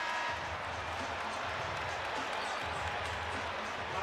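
Basketball arena crowd rising after a player's dunk: a dense, continuous roar of cheering and applause filling the space evenly, with no break or single standout voice.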